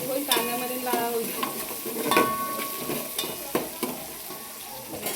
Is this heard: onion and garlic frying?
yes